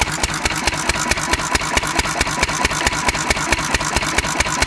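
A car engine idling on a SeaFoam fuel mixture, a close, rough, rhythmic chugging with regular pulses throughout and no voices.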